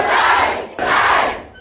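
A classroom audience at a computer institute breaks into loud applause and cheering in two close bursts, dense and near, with no talking over it.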